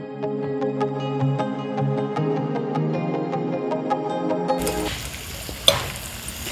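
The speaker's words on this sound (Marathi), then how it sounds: "आता व्यवस्थित ही भाजी आपल्याला परतून घ्यायची आहे" Sliced ivy gourd and long potato pieces are stirred in a hot pan over a wood-fired stove. A short stretch of music gives way to a close, broadband sizzle with scraping stirs and one sharp clatter.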